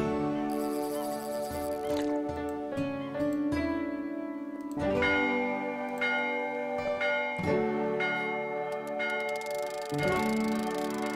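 A church bell rings in the game Old Man's Journey, repeated resonant strikes with long ringing tails layered over gentle tonal music, clear and prominent with no talking.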